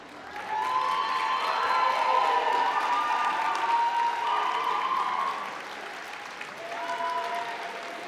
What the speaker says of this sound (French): j'invite les diplômés à applaudir